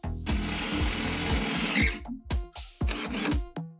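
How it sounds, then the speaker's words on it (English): A power drill bores a hole through a mobility scooter chassis, whining steadily for almost two seconds and then cutting in and out in short bursts as the trigger is pulsed close up. "drill the hole in the chassis"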